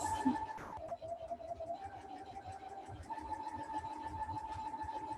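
Sewing machine stitching a simple pillow, a quiet steady mechanical whir with a rapid needle rhythm that runs continuously after a brief opening clatter.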